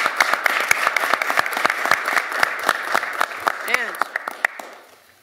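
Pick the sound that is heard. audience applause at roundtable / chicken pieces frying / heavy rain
audience applause at roundtable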